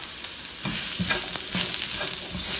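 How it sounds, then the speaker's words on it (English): Mushrooms fry in a pan with oil after onions for a glass noodle stir fry, making a close, steady sizzle with several sharp stirring clicks and scrapes. "Now I'm adding the mushrooms in here."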